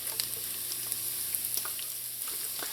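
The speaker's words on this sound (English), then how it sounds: "When the oil is hot, add in some sliced onions," Sliced onions and chopped scallion sizzle in hot oil in a pot on medium-low heat, a steady soft frying hiss with faint crackles throughout, alone without talk.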